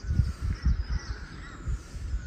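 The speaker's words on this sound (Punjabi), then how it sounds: "ਸਵੇਰੇ ਸਵੇਰੇ ਉੱਠੇ ਹਨਾ ਪੰਛੀਆਂ ਦੀ ਆਵਾਜ਼" A crow caws in short, repeated harsh calls during a morning in the hills near a waterfall outside Dalhousie, with faint background hiss and no voices.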